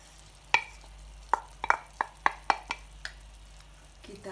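Meat and mushrooms fry in a pan with apple vinegar for almond-sauce chicken, stirred with quick sharp spatula taps and scrapes in an irregular burst of about eight clicks over faint background sizzle, close, no voice.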